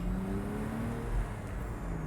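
A 2011 Porsche Boxster Spyder's 3.4-liter flat-six hums steadily from inside the cabin while on the move, a continuous low drone with rising and falling pitch under a constant road rush.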